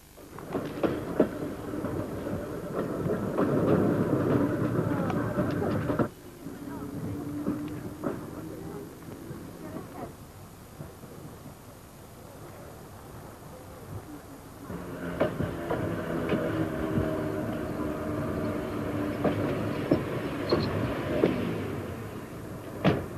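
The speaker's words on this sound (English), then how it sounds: "the Dudley tram trundles up and down about 30 trips a day" A Dudley tram rumbles and clatters along the rails in two loud stretches, with a quieter lull between them and people speaking throughout.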